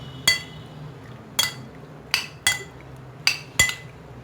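A spoon mixes chicken vegetable macaroni in a pan, giving six sharp metallic clinks spaced irregularly over a quiet background, close but fairly soft, with no talk.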